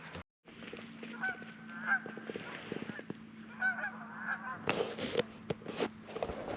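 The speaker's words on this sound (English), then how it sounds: "I don't know if the camera can pick up those geese up there" Geese honking repeatedly overhead outdoors at a reservoir in the Green Mountain National Forest, a steady chorus of calls at moderate distance, with a few sharper nearby noises toward the end.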